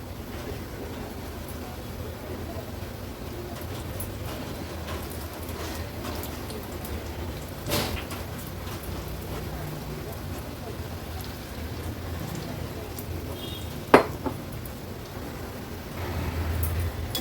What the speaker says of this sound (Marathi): पकोडे तळताना गॅसची फ्लेम मी हायवरच ठेवली आहे.